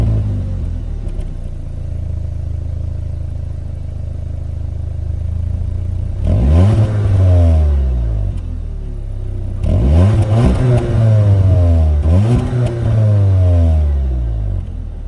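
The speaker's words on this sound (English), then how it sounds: "the exhaust note does seem to be slightly louder than in my Leon" A Cupra Ateca 300hp SUV heard from outside with the windows down, its exhaust rumbling at idle before two loud bursts of revving that rise and fall sharply, the second longer with repeated blips, close and alone.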